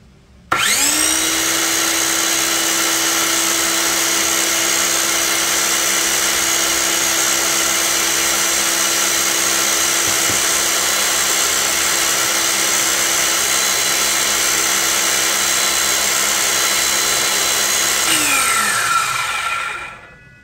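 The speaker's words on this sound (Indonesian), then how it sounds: "Ini kita akan langsung uji untuk tingkat kebisingan ya." A Modern M60 cordless circular saw spins up and runs at a steady, loud, high-pitched whine for about eighteen seconds, then winds down, with no cutting and no talk.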